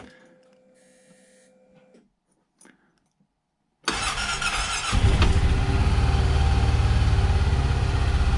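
A Honda Pioneer 700 side-by-side engine makes a cold start: quiet clicks and a brief whir, then a silent gap before it cranks and catches into a loud, steady idle that keeps running close by.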